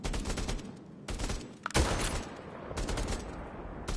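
Gunfire in the Bravo Team PSVR video game crackles in rapid bursts, repeated volleys of sharp shots with brief pauses between them, fairly loud and close.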